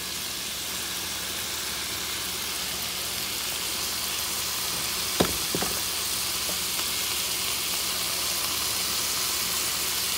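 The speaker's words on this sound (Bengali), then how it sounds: "একটু শ্রিম করছি, সাথে বাটার দিয়েছি সামান্য শ্রিম্প আর অনিয়ন" Shrimp and onion sizzle steadily in butter in a pan, a constant bright frying hiss with a few soft utensil clicks in the middle, close and unbroken, with no talking.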